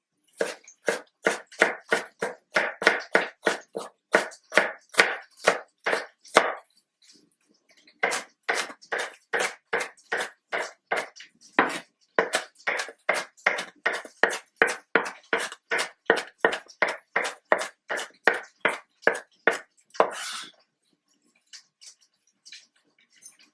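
Raw potatoes sliced very thin with a knife on a board in an off-grid homestead kitchen, giving long runs of crisp, evenly spaced close chops with a couple of short pauses between batches.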